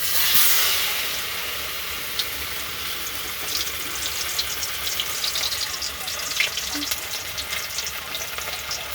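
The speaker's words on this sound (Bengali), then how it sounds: "এই যে আমাদের ফিশটা আছে এইটা আমরা নেব, নিয়ে আমরা তেলের মধ্যে দিয়ে দেবো" Fish frying in hot oil sizzles and hisses steadily, with a louder burst at the start as it goes in and faint crackles throughout, close up without talk.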